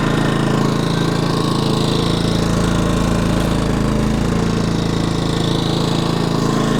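A small Black Diamond inverter generator hums steadily and continuously, exhaust pointed at a steel shipping container, a constant mechanical drone close by with no voices.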